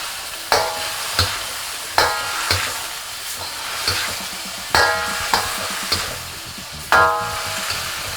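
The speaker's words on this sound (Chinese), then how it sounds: "羊肉变色之后呢，我们继续加入料酒，再翻炒一下。" Lamb stir-fried in a wok with onion and a splash of cooking wine: a steady sizzle under repeated scraping strokes of a spatula, roughly one per second, close and fairly loud with no talking.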